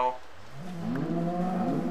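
A cow in a video game gives a single low, drawn-out moo that rises and holds for a couple of seconds, fairly close and heard on its own.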